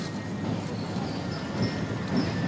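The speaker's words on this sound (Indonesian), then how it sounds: "sayup-sayup kita dengar derap langkah kuda memasuki gerbang Istana Merdeka" Horse hooves clip-clop at a steady pace entering the gate of Istana Merdeka during an Indonesian independence-day flag ceremony, faint and distant beneath a constant crowd murmur.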